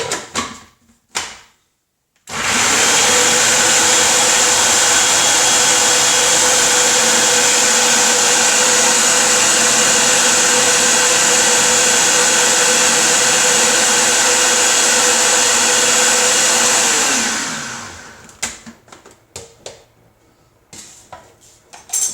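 A food processor whirs loudly and steadily for about fifteen seconds, grinding a falafel mixture into paste, then spins down, with brief clatters of handling before and after.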